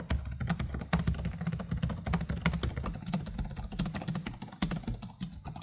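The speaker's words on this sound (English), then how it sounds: "But the Scar's keys have a lot longer key travel, a more satisfying click, and more stable feeling keys." Rapid, steady typing on an Asus ROG Scar gaming laptop keyboard, whose keys have long travel, produces a dense stream of close, clicky keystrokes that continues with no talking.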